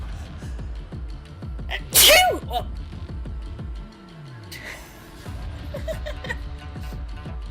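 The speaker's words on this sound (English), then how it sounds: "Yeah, that was a big sneeze." One loud, sharp sneeze bursts out near the mic, with faint rustling and breathy noises before and after.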